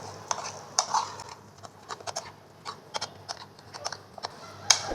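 Spices are stirred into a potato filling for aloo kachori, a spoon scraping and clinking against the bowl in light, irregular taps close up, with no talking.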